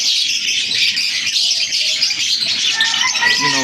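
Pet birds kept at home chirp and tweet in a steady, overlapping chorus, close and fairly loud, with a few softer coo-like calls mixed in throughout; no voices.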